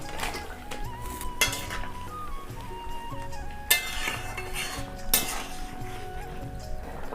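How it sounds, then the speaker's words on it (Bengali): Pot and utensil clatter while fish heads go into boiling broth for Bengali muri ghonto, with metallic clinks, a few sharp knocks and a soft steady simmer beneath, under background music, with no talk. "ঝোলটা ফুটে উঠেছে, আমি এবারে মাছের মাথাগুলো দিয়ে দেব।"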